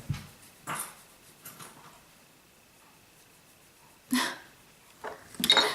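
A pet dog in a room makes a few soft, short whimpers and snuffles, scattered and faint with quiet gaps between them.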